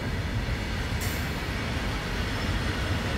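A crowded passenger train travels from Andhra Pradesh toward Berhampur in Odisha, its carriage rumbling with a steady, loud, continuous roar and faint rattle throughout.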